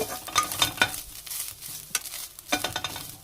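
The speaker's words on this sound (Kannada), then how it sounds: "ಇವಾಗ ತೆಂಗಿನಕಾಯಿ ತುರಿನ ಫ್ರೈ ಮಾಡ್ಕೊಂಡಿದ್ದಾಯಿತು" Grated coconut being fried and stirred in a pan, soft sizzling with scraping stirs repeating in bursts, close and fairly quiet, no voices.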